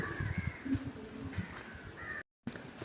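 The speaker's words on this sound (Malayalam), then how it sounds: "ഇവിടെ നിറച്ച് കിളികളാണ്," Crows call in a big garden, a few faint caws over soft outdoor ambience with a brief dropout near the end.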